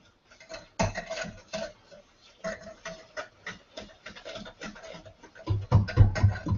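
Butter and sugar being mixed by hand in a bowl for waffle iron cookies, heard as irregular scraping and clinking of a utensil against the dish, quiet at first and louder and busier toward the end.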